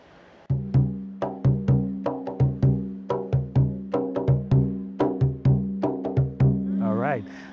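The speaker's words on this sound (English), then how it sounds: "And we have the bass drum" Junkanoo bass drum from the Bahamas beating a steady, booming parade pulse, deep resonant strokes repeating evenly and close; a voice briefly starts speaking right at the end.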